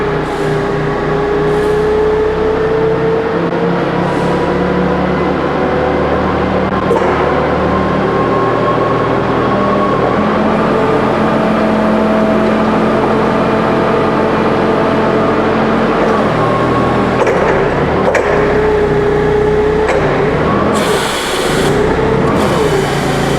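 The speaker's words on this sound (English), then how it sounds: "And let's run the forks." A 2015 Toyota LP cushion-tire forklift idles up close while its forks are raised and lowered, the hydraulic pump whining and shifting pitch over a steady engine drone, with occasional clunks toward the end.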